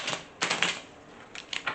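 Crisp papery riffling of tarot cards in short bursts, a couple of quick shuffles close by with brief pauses between them.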